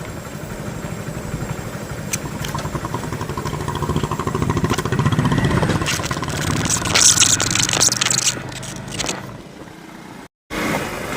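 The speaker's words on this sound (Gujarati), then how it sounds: "બાઈક આવી ગયું છે હરેશભાઈનું" A motorcycle engine hums steadily near the microphone while riding along a road during a rally, growing slightly louder before a brief dropout near the end.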